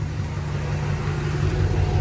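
A car engine idles steadily after a blown injector on cylinder 2 was repaired, a continuous low even rumble with no revving, heard close and alone.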